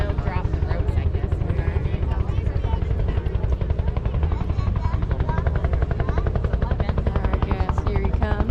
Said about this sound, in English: here he comes for the helicopter duck drop